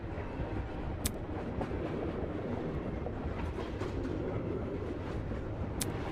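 A train rolls along its tracks in a Danganronpa fan video game, a steady, continuous rumble of wheels with faint rhythmic clatter and a couple of brief high squeals.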